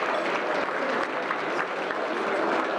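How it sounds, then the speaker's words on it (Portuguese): An audience of businesspeople breaks into sustained, dense applause, steady and fairly loud throughout with no pauses. "a notícia de que Eduardo Cunha tinha renunciado à presidência da Câmara provocou aplausos na"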